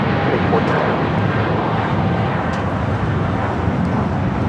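Air China Boeing 777-300ER on its takeoff roll toward Beijing, a steady loud broadband engine roar that holds without a break, with faint talk underneath.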